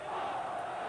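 A crowd roars steadily at a Karuhat vs Chatchai Muay Thai fight, a dense, continuous wall of cheering that fills the whole second with no break.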